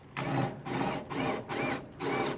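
A power drill bores into wood in four or five repeated bursts, whining and grinding with short pauses between each push.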